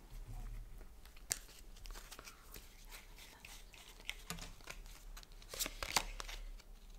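Oracle cards being shuffled for a card reading, soft riffling and flicking with scattered sharp snaps and rustles, quiet and close, with no speech over it.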